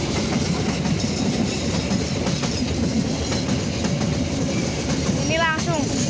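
Indonesian Dharma Wangsa passenger train hauled by locomotive 8905 rolling past west of Semarang Poncol, a loud steady rumble of wagons and wheel clatter throughout, with a brief high wheel squeal near the end.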